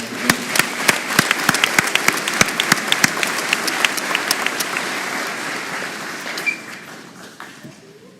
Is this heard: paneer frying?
no